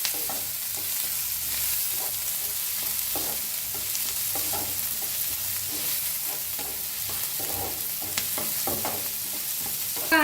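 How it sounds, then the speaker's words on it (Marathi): Onion and desi garlic roasting in a pan for a bitter gourd (karela) dish, a steady close sizzle and frying hiss with occasional stirring scrapes, no talking. "तर याला छान असं भाजून घेऊया आपण."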